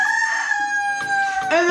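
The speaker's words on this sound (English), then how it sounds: "the rooster crowing in the background" A rooster crows in one long, loud, drawn-out call close by, outside a home kitchen in Puerto Rico, with no talking over it.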